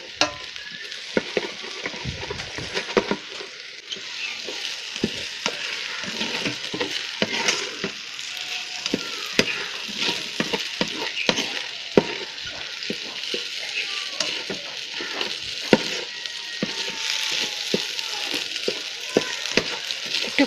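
Egg and vegetables frying in a rice cooker while being stirred continuously, a loud bright sizzle broken by frequent clattering scrapes of the spoon.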